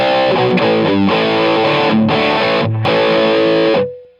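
Electric guitar chords played through an EQ pedal ring out steadily with a bright, EQ-shaped tone, several strums over about four seconds, then a sustained note fades away.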